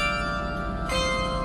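Memorial bells at the German war cemetery in Ysselsteyn, Netherlands, ring out in sustained metallic tones, with a fresh, louder strike entering near the end over the fading resonance.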